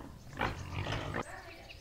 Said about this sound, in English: She's such a good baby pig.